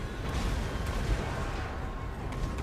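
Siege units in Total War Warhammer 2 bombard a gate during a Bretonnia siege, producing a steady, dense roar of distant artillery booms and gunfire that runs without a break for the whole stretch.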